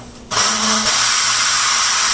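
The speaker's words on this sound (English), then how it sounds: "There's the steam releasing." A Fagor Cayenne 6-quart pressure cooker blasts out steam in a sudden loud, steady hiss that starts abruptly after a brief quieter moment and holds on, close and harsh.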